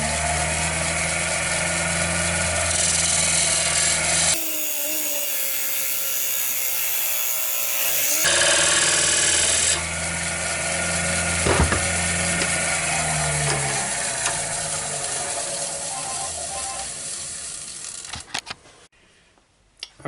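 A woodturning lathe spins a wooden box blank while a tool faces off the end, a continuous loud whirring hum with scraping cutting noise that shifts in tone and fades toward the end.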